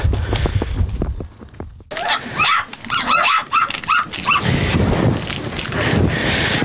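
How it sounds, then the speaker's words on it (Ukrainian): A dog gives a short series of yips and whimpering barks at moderate distance, over outdoor rustling and footsteps, on a road. "на дорозі побачили собаку, яка гучно лаяла та привертала до себе увагу"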